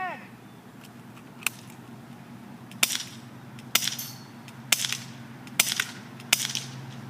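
Sharp BB gun shots and pellet impacts on targets such as a milk jug, cans and a cup in an outdoor shooting course, about six crisp cracks spaced irregularly over a steady low background hum.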